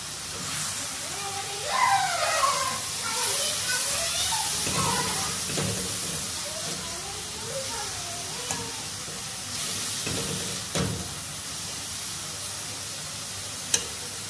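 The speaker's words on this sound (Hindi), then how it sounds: "ऑयल में मेथी को डालकर 10 से 15 मिनट के लिए फ्राई करेंगे" Fenugreek leaves frying in oil for aloo methi, a steady hiss and sizzle throughout with occasional scrapes and clinks, while a voice talks over it in the background.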